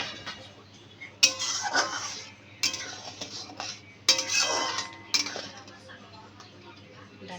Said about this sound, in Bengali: ঢাকনাটা এখন উঠাই নেব।